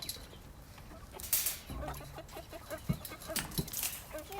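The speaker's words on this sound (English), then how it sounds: "Okay, I'm gonna give our little meat chicken some scratch." Meat chickens cluck and peck as scratch grain is thrown into their pen, with soft, scattered calls amid rustling and light handling noise.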